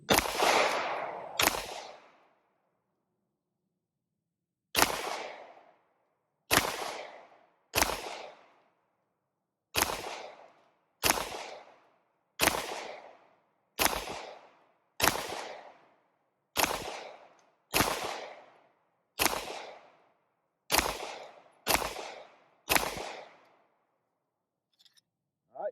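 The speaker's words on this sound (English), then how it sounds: "17 rounds with the Sports K-12 Sport" SAR USA K-12 Sport shotgun firing seventeen rounds at about ten yards, a short pair of loud sharp blasts, a pause, then a steady string of single shots roughly a second apart, each with a brief decaying tail, no talking.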